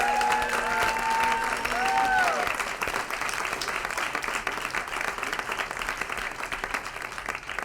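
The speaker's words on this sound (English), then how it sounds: "let's give all of these winners one more very large round of applause" A large audience applauds student journalist award winners at a climate media town hall, a loud sustained wash of clapping that runs the full length, with brief chatter audible early on.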